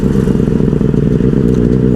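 A Benelli 600i motorcycle engine revs loudly up close, a dense throbbing roar with a rapid firing pulse that stays strong and steady.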